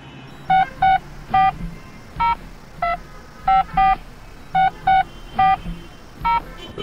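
A mobile phone number being dialed, a run of about a dozen short, loud, evenly clipped keypad tones in quick succession over a low background rumble.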